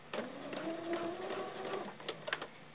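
A sewing machine stitches a seam in nylon doll leggings, a soft steady whirring run of needle strokes for about two seconds, followed by a few quieter clicks as it stops.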